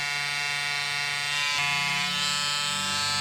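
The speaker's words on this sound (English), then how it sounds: "You could use the stitch eraser to shave off the seams." A small electric stitch eraser shaves stitches off fabric seams, giving a steady close buzzing drone whose pitch dips briefly and then settles slightly lower.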